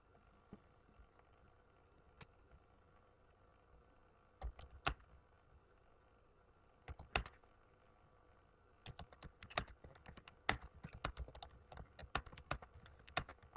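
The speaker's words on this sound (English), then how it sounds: "Now type the text that you want to save as a macro." Typing on a computer keyboard while entering text in Word 2013: faint, sparse keystrokes at first, then quicker clusters of crisp clicks toward the end, with no talking.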